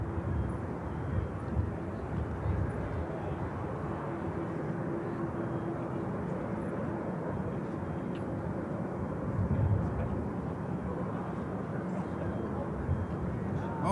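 A jet aircraft taxis at Manchester Airport, a steady low rumbling engine drone heard from some distance, fairly faint and continuous with a slight swell near the middle.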